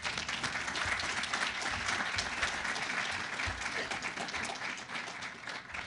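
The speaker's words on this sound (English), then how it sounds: "let's give them all a UCF warm round of applause" Warm round of applause from an audience at a university engineering design day event, steady dense clapping filling the whole stretch at an even level with no voices over it.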